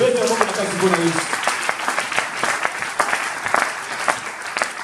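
A church congregation claps steadily for Jesus, sustained rhythmic applause with some crowd noise, while a voice speaks briefly at the start.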